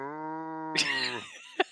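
A farm cow gives one sustained low moo lasting under a second, loud and close, followed by brief rustling and a sharp knock.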